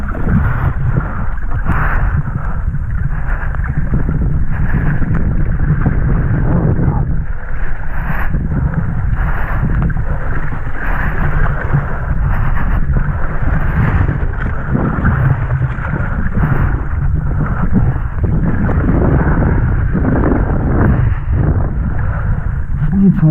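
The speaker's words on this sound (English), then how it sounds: "at least out here past the pier, there's a little bit of wind" Steady wind buffeting the microphone out past a pier on the water during a light-air kitesurfing and wingfoiling session, a continuous low rumble and rush lasting throughout with occasional gusty swells and no talk over it.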